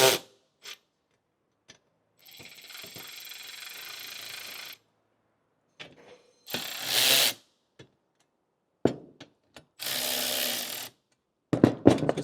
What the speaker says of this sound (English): So grab my king chrome ratchet, put it in the righty-tighty mode.